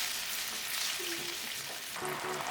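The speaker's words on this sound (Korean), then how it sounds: "달궈지면 마늘, 고추 넣고 볶아줬다." Garlic and chili pepper stir-frying in a hot pan while preparing a shiitake mushroom sweet-and-sour dish, a steady close sizzle with faint clinks of stirring, no voices.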